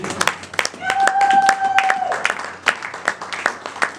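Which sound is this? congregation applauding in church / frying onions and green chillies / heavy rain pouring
congregation applauding in church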